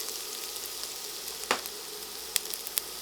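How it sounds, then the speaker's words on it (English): Garlic sizzling in neutral cooking oil in a pan for a chicken sausage and vegetable stir fry, a quiet steady frying hiss with a few brief sharp crackles, close and alone. "So next thing we're gonna add is our garlic"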